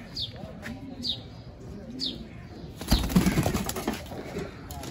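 Pigeons cooing and chirping with a few wing flaps, repeated calls at a steady pace, followed by a louder burst of fluttering and rustling nearby.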